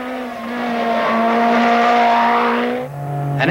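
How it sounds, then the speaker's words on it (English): A Lancia Delta S4 rally car at Pikes Peak holds a loud, steady high-revving engine note that swells as it nears, drops sharply at a gear change, then climbs again. "A Lancia Delta S4."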